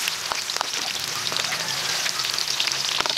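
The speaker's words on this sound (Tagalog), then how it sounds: "magkakaramelize muna tayo ng sibuyas" Onions caramelizing in a pan for a spicy steamed pork belly dish, giving a steady close sizzle and crackle with scattered pops, no voices.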